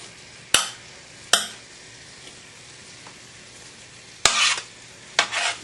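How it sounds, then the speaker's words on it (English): Onions cooking down with brown sugar in a pan, stirred with a utensil: a few sharp scrapes and clinks against the pan stand out over a steady low sizzle, with no talking. "Just give them a stir every so often so they don't burn."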